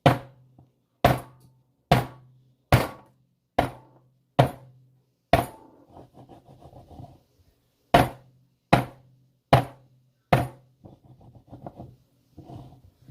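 A cake pan filled with pound cake batter is banged down hard on a counter about a dozen times in quick, even rhythm, with a brief pause midway and faint rattling between hits.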